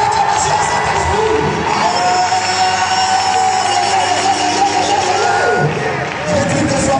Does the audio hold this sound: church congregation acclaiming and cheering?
yes